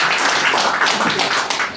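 A short burst of clapping from an audience at a boxing press conference held in a grill house, dense and moderately loud throughout.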